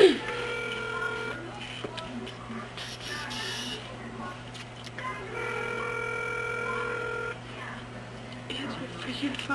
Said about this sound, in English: Answer your freaking phone.